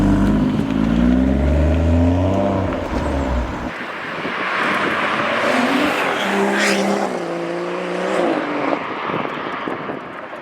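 BMW M140i or M240i with a BCS Powervalve exhaust, a loud engine revving and pulling hard nearby, then a second surge of rising revs, with no talk.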